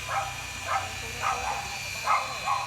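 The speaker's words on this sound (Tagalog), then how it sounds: "Katama yun, marami aso. Ang dami aso." Dogs bark repeatedly outdoors during a walk, five or so short, evenly spaced barks at moderate distance over a low background hum.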